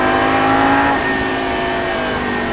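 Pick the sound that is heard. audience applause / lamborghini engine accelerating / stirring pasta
lamborghini engine accelerating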